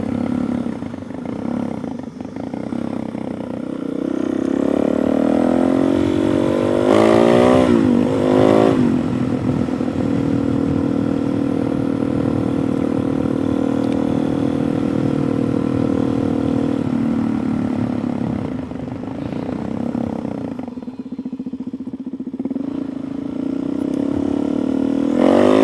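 A Suzuki DRZ 470sm supermoto motorcycle accelerates hard and pulls a wheelie, its single-cylinder engine revving up with a quick gear change, then holding a loud steady drone before backing off and picking up again.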